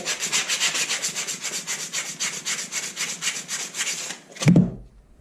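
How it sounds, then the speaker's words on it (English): A hand sander works wood for a homemade ice fishing pole in steady, rapid back-and-forth strokes. The scratchy rasping is loud and close, keeps an even rhythm, then stops abruptly with a short thump near the end. "You can either do it with your hand sander"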